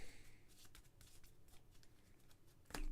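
A deck of cards for a GI Joe deck-building game is shuffled by hand in a quick series of soft riffling bursts, close and fairly quiet, ending with a louder snap of the cards.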